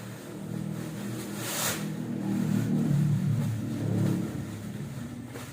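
A tricycle engine revs, rising and falling in a couple of swells that build to a louder middle stretch before settling back. The motor sounds medium-close and carries a rough, mid-pitched drone throughout.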